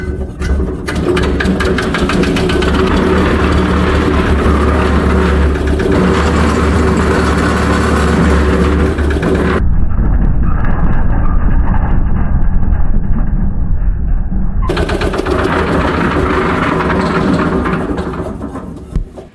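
An old diesel-powered concrete mixer runs loudly up close, its drum turning on a ring gear with a constant clattering, rattling drone, and a short stretch sounds duller and muffled midway.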